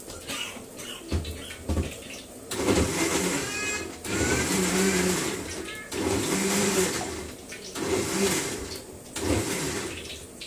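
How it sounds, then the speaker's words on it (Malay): Kitchen blender pureeing tomatoes and onions whirs loudly in several bursts, with short pauses between pulses. "Blender barang dulu."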